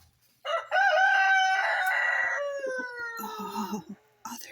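Chickens calling near a backyard chicken habitat, with one loud, drawn-out crow-like call followed by shorter clucks and squawks that fade, then a brief final cluck.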